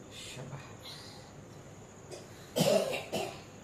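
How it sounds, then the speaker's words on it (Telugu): A person coughs in two or three harsh, close bursts near the end, after a quiet stretch with faint background sound. "దగ్గు విపరీతమైన దగ్గులు"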